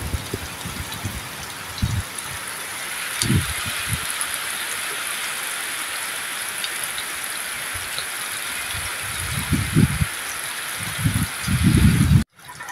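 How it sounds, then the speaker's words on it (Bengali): Rain falling steadily as a broad continuous hiss, with a few low thumps and bumps nearby and no talk, ending abruptly. "পুরো বৃষ্টি ভাই।"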